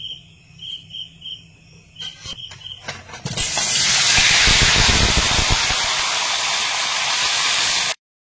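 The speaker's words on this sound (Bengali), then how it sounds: "পটলের আলু, পটল, এগুলো চিংড়ি সব ভাজতে হবে একে একে।" Potatoes, pointed gourd and prawns drop into hot oil in a wok, cooked at night, bursting into a loud, steady sizzling hiss after a few seconds of quiet background with chirping insects, then cutting off abruptly.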